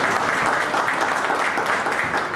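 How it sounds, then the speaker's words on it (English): An audience at a gathering of newly employed academic staff claps together, a dense, steady burst of applause with no talk over it. "I thought you were going to clap your hand for that."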